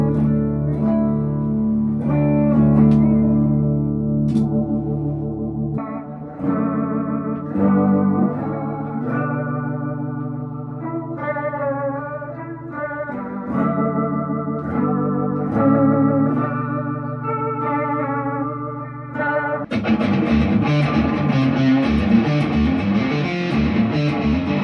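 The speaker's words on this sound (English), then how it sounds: "it's just a very like wobbly tape echo, very lo-fi pedal" An electric guitar plays sustained chords and notes clean for about twenty seconds, then switches abruptly to a brighter, warbling sound through a wobbly lo-fi tape echo pedal, close and loud with no talking.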